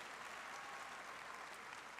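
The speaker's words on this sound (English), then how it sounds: "that deserves a round of applause" Steady applause from a university commencement crowd, a dense wash of clapping hands that holds evenly from start to finish at moderate distance.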